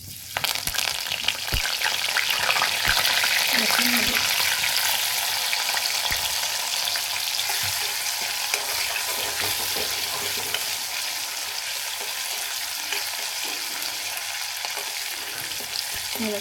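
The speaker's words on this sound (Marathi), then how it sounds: "तेल एवढा छान कडक तपलेलं आहे जिरे टाकले टाकू दे कढीपत्ता आहे" Cumin seeds and curry leaves sizzling in very hot oil in a kadhai, a loud continuous frying hiss with scattered pops and spatters that eases slightly over time, with no talking.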